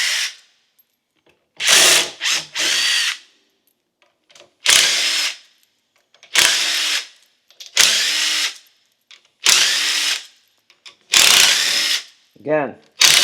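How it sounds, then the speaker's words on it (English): A power drill backs out 3/8 headed screws in a series of short, loud, close whirring bursts separated by silent pauses. A brief rising whine comes at the very end. "Now I need to remove all these 3/8 headed screws."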